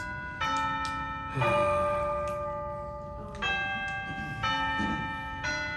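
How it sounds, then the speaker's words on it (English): Several bells ring out in overlapping peals with sustained metallic tones, struck in a few separate bursts that linger and decay, fairly loud and nearby. "These bells."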